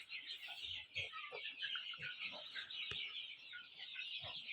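Chickens and young chicks on a small farm, steady soft clucking and peeping at moderate distance under a continuous high chirping din.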